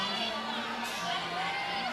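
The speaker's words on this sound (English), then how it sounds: "Crowd support here is absolutely exceptional. You can just hear constant support." Crowd at a youth lead climbing world championship in Singapore cheers and shouts steadily, a dense, continuous wash of voices with whoops rising throughout.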